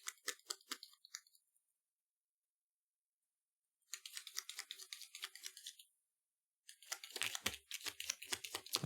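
Bursts of loud, close tarot card shuffling, crisp riffling and snapping in three separate runs with brief silent gaps between them.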